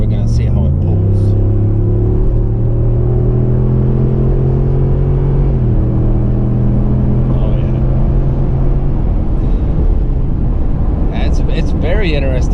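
A 2020 Ford F250 Super Duty with a naturally aspirated 7.3L V8 pulls up a long hill, its engine drone rising steadily in pitch under heavy load inside the cab, then easing off near the end.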